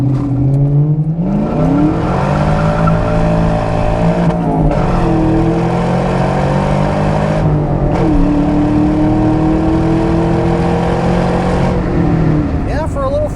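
A manual 1998 Ford Mustang Cobra convertible with a 4.6 V8 and five-speed pulls hard through the gears, engine note climbing in loud sweeps with brief dips at shifts, heard from inside the car.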